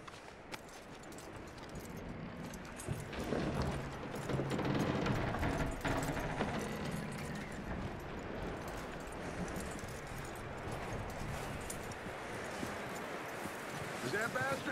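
Horse hooves clip-clopping in the video game Red Dead Redemption 2, a steady soft stream of hoofbeats with wind and ambient noise, mostly under a voice speaking throughout.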